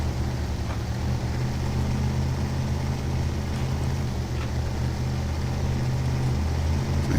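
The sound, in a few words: Limes SXS buggy engine in the video game SnowRunner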